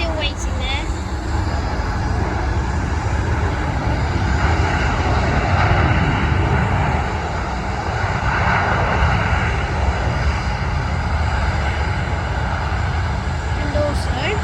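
Small jet aircraft taxiing at London Stansted Airport, a continuous, fairly loud engine rumble and whine that stays steady for the whole stretch, with slight swells in the middle.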